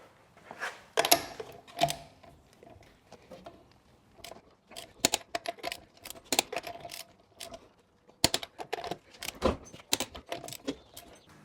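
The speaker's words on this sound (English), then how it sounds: "And we're going to torque the lugs last." A torque wrench set to 90 foot-pounds tightens the wheel lug nuts on a Hiker trailer, producing bursts of sharp metallic clicks and ratcheting rattles separated by short pauses.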